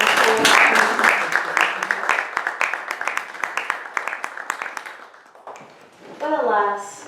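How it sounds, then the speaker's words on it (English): Round of applause for the final four players of a game-show finale, crisp individual claps from a small group, loud at first then thinning out and stopping, followed by a brief voice. "Let's one more round of applause for our Final Four."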